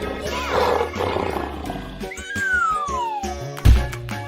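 A lion's roar rises over a rough, noisy background, with a long sliding tonal cry and a sharp thump near the end, fairly loud and unaccompanied by talk.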